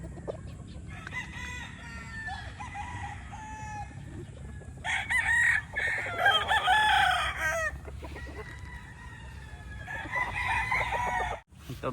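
A brood stag gamecock crows loudly several times in bright outdoor air, with clucks and other fowl calling nearby between the crows.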